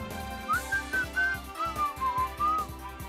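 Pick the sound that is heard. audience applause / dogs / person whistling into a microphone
person whistling into a microphone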